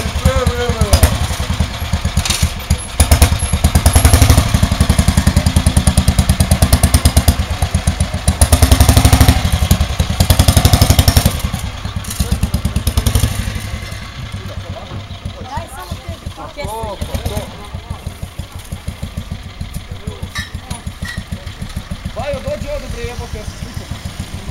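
A motorcycle engine runs close by, chugging and revving in a steady rapid pulse with rising and falling intensity, while voices talk over it.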